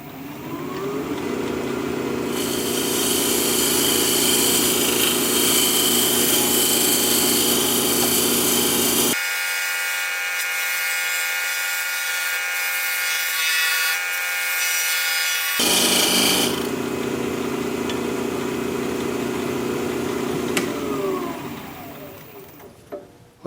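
Skew chisel cutting a wooden flower on a spinning wood lathe, a loud continuous rasping, shaving whir with a quieter stretch midway while the lathe keeps humming, then the cutting resumes and runs to the end.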